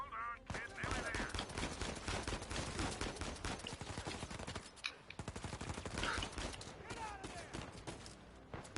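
Rapid gunfire aimed at the player in Uncharted 4, dense bursts of shots crackling almost continuously over a busy game mix, with a brief lull midway before the firing resumes close and loud.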